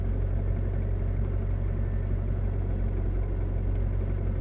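A car engine idles at a steady low rumble, a constant even drone with no revving and no voices.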